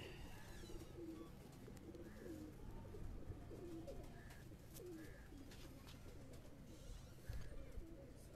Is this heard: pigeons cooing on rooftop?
yes